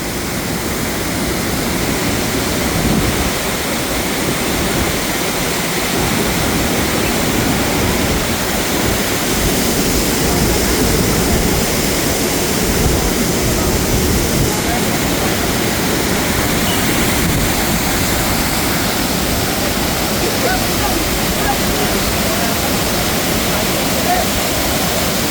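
Thirparappu Falls pours in a steady, loud, broadband roar of falling water that holds unbroken for the whole stretch, close and dense with no pauses.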